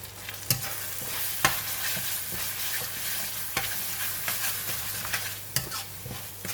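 Rendang curry paste with kerisik, grated coconut, salt and sugar fries with a steady close sizzle while a spoon stirs it, scraping the pan in sharp periodic strokes about once a second.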